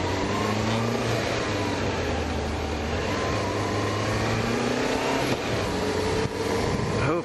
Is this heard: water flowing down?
no